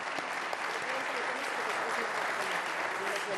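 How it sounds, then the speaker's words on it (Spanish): A church-free hall audience at an essay contest award ceremony claps loudly in a dense, sustained burst of applause, steady from start to finish with a hint of crowd voices mixed in. "Un aplauso para ti."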